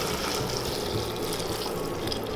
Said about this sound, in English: We're gonna go ahead and add our smoked pork broth.